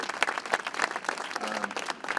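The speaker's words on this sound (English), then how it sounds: "We should give her a round of applause." Audience applause at an apartment building ribbon cutting, a steady patter of scattered hand claps from a modest crowd, moderately loud and fairly close, running throughout without speech.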